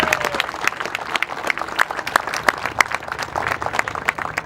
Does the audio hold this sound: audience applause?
yes